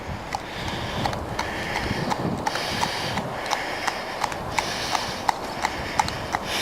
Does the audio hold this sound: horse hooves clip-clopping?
yes